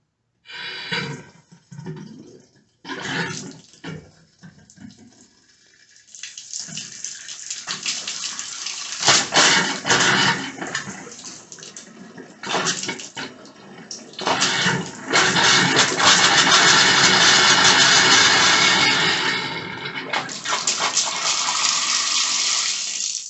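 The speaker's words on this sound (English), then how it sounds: "Let's go ahead and test the shower." A shower runs after a diverter valve has just been installed. Water sputters and starts in bursts, then settles into a loud, steady hiss and splash up close, with a short break near the end.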